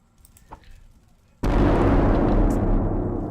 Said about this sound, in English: if you're too far away, the arrow doesn't seem to ever hit and blow things up